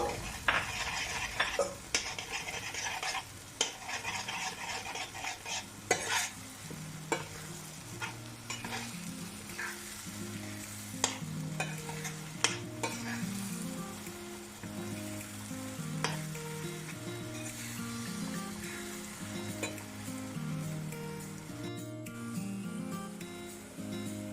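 Eggs sizzling and frying with green onions in a pan, a steady crackle with occasional spatula scrapes and light clinks against the pan, close and continuous.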